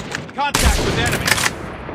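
A short burst of gunfire in a Call of Duty game, a loud sudden blast of rapid shots after a brief lead-in, close and harsh, then fading.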